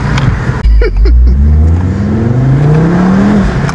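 Ford Focus RS Mk2 with a 320-horsepower turbo engine accelerating hard from inside the cabin, a loud engine roar rising steadily in pitch after a brief gear-change dip, with faint turbo whir.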